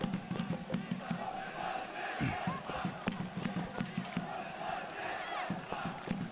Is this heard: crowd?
yes